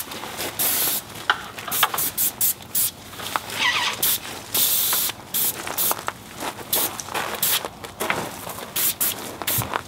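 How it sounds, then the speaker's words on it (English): A paint spray gun with a small 210 tip hisses in short, repeated bursts while spraying a second coat onto stucco, stopping and starting irregularly, close and fairly loud with no talking. "I sprayed my first coat, and I'm spraying a second coat on it."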